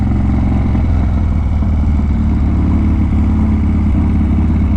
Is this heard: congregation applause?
no